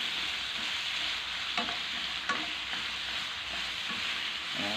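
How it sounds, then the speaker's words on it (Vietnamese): Wild boar ear stir-fried with lemongrass and chili gives a steady, close sizzle, with a few sharper scrapes of the spatula against the pan breaking through the hiss. "xào qua xào lại"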